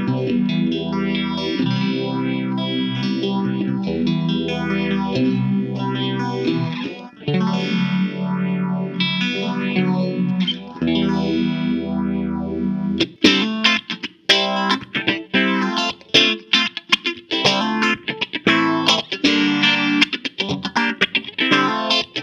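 Electric guitar played through a Phaser 2 effect pedal with both knobs at noon, a distorted, swirling tone. Sustained chords come first, then quicker choppy strummed bursts, loud and alone.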